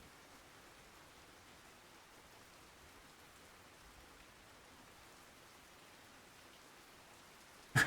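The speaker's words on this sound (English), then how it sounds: "it sounds like you're in actual rain if you've got a good like 3D headset" Steady rain falling in the fishing video game Russian Fishing 4, a soft, even hiss of drops that runs unbroken at low level, with no voices over it.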